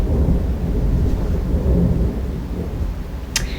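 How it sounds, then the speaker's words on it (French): Low thunder grumbles on continuously behind steady rain during a thunderstorm, a loud, heavy wash of rumble, with one sharp crackle near the end. "le truc que vous entendez, le grognement et tout, c'est des orages"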